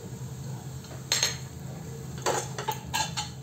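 A spoon scraping and clinking in a metal pan while gravy is stirred together with spices for a doodhi kofta curry, a few short close clatters over a low kitchen hum.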